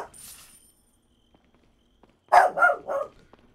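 Dog barking in a room, three quick close barks after a faint earlier noise and a stretch of near silence.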